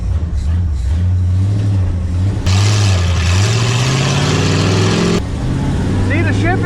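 A 1978 Ford F-350 pickup truck's engine rumbles low at idle, then revs hard as the truck pulls away. A loud roar builds and eases off, and people talk over it.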